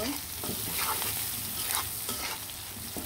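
Onions and garam masala frying in a pan while being stirred: a continuous close hiss of sizzling oil with repeated scraping strokes of a spoon, fairly loud and with no talking.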